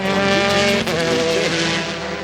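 A loud, close sports prototype race car at the 2005 ALMS round at Lime Rock roars through a turn and slides sideways, its engine pitch wavering and falling briefly, with other cars audible underneath.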